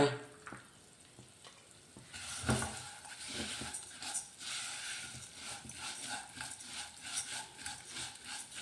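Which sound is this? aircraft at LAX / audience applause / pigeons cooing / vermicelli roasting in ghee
vermicelli roasting in ghee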